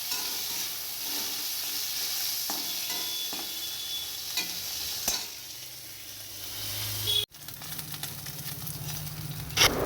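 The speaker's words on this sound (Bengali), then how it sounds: "কানকোগুলো তার আগে একটু ভালো করে ভেজে নিই" Fish gills sizzle steadily in a hot pan, with occasional scraping and stirring sounds and a sharp knock near the end.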